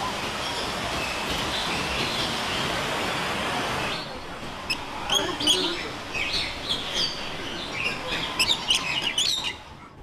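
After a stretch of steady rushing noise, many small birds chirp and tweet in quick overlapping calls inside a large walk-through aviary in a Hong Kong park, fairly near, against a soft background hum.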